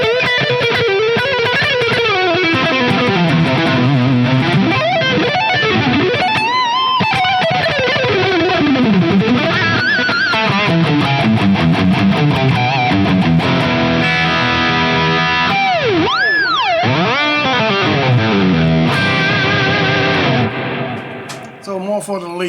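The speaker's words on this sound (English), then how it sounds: "And you hear the delay. This is more for the leads," Lead electric guitar through an Axe-FX preset with delay, a long loud solo of bending, sliding sustained notes with repeating echoes, played alone and ending with a few quieter trailing notes.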